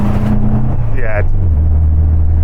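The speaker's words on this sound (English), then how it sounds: "When I stamp on the throttle, it's just dropping out." A car fitted with Weber IDF carburettors drones loudly from inside the cabin, its engine note sagging and stumbling under throttle, with a voice over it.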